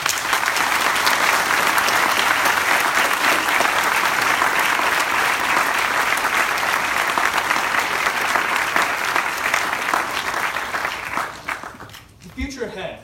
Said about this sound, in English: please join me in applauding our teachers